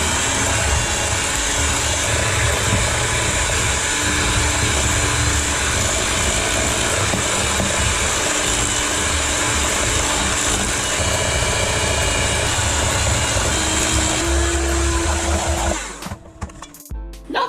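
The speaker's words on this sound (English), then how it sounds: "beat it with an electric mixer until it's smooth and fluffy" An electric mixer beats butter, sugar and eggs for a sponge cake batter, a loud steady motor whine running continuously before cutting off near the end.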